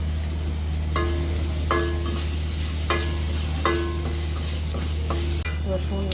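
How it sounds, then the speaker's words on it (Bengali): Garlic browns in a little oil with bay leaves, cardamom and cinnamon on a stove, a low constant sizzle and hum punctuated by regular clinking stirs of a spoon against the pan, without talk. "রসুন লাল লাল করে ভাজা হয়ে গেছে।"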